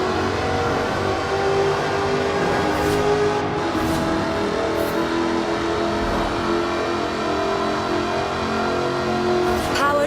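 A supercharged 5-litre V8 car engine in the Forza Horizon 4 video game, a dense continuous roar held at high revs with shifting pitch throughout, loud and close, with no voices over it.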